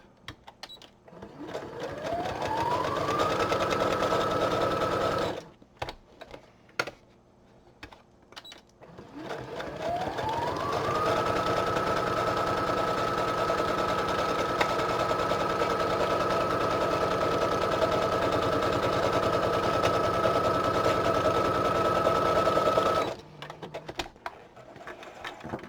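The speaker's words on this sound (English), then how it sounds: "I've been told that my sewing machine's not super loud on video" A home sewing machine stitches in two long runs, each winding up quickly to a steady whirring drone and then stopping, with a quiet pause between the runs and no talking.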